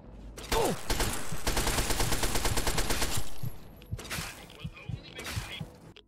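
In Fallout 3, a combat shotgun fires a long, rapid string of loud, close blasts, then a few scattered shots after a short break.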